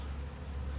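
Bees, with some wasps among them, feeding in a backyard: a steady close buzzing hum that holds through the short moment with no voices.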